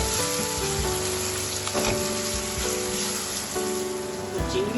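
Prawn mince goes into a pan of pointed gourd mixture and sizzles steadily, a dense continuous frying hiss with soft bubbling and occasional faint clinks, close and with no talk.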